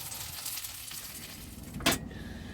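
A steak sizzles steadily in a pan of butter being basted over very low heat, a soft, even crackle close by with one brief louder spatter, no talking.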